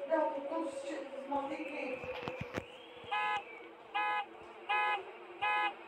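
A horn honks four times in an even rhythm, with short, loud, buzzy toots coming after a stretch of muffled voices and clatter.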